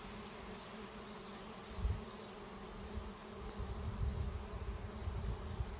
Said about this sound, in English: There's a lot of bees in the air